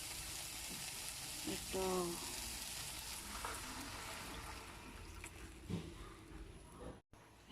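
Marinade poured into a hot frying pan for escabeche of galunggong fish, a loud bubbling sizzle that stays strong throughout, with a brief spoken word and a soft clatter near the end.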